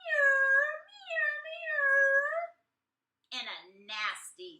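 Human voice imitating a cat's meow, drawn-out and whiny, repeated three times in a storytelling read-aloud, followed by a pause and brief spoken words.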